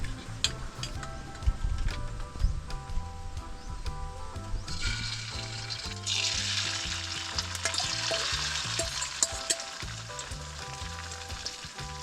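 Oil heats in a hot pan for a spinach omelette with a continuous close sizzle that swells and grows brighter halfway through, over low clinks and background hum, with no voices.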